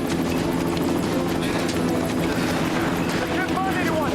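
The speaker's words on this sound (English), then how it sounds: "We have a report of a news helicopter hindering the rescue operation." Steady rotor thrum of a news helicopter hovering close over a sinking boat during a sea rescue, droning continuously beneath overlapping voices, water and commotion.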